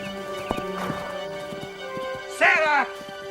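A wild horse whinnies loudly and close, a long quavering neigh near the end, with scattered hoof clops and stamps earlier over a low steady hum.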